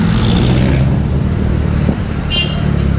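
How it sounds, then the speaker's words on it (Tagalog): Road traffic rumbles loudly and continuously during a New Year's ride, a dense low engine drone from nearby vehicles with a brief higher-pitched whine partway through. "Traffic na oh."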